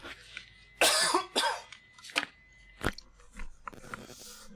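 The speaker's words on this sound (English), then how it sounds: "I'm sorry if that cough was really loud" Several loud, sharp coughs and throat-clearing bursts right into a close microphone, separated by short pauses, with no talking.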